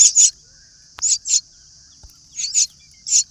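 Myna chicks call in short, shrill, high chirps that come in quick pairs with pauses between, loud and close, against a faint steady high whine.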